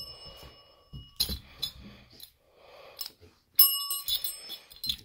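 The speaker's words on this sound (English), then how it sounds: "You gotta play with the bell." A baby rings a small hand bell, giving several bright metallic rings in scattered bursts with quiet gaps between, close by, while an adult voice talks softly nearby.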